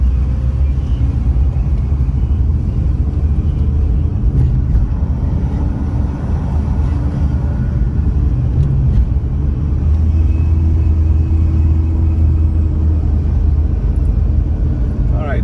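A car driving through the Maitama district of Abuja, a steady loud interior engine and road rumble that runs unbroken throughout, with someone talking over it.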